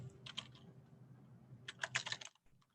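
Computer keyboard typing in two quick bursts of keystrokes separated by a pause, close and fairly quiet, with no talking.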